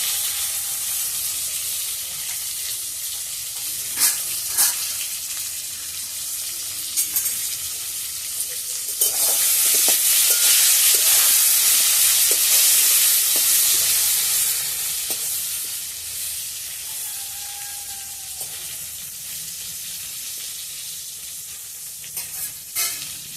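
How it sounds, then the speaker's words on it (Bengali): Half a batch of small, tender brinjals frying in a kadai makes a continuous sizzle that swells in the middle, with stirring clatter and a few sharp utensil taps and no talk. "সবগুলো দিচ্ছি না, অর্ধেক অর্ধেক করে ভেজে নিচ্ছি"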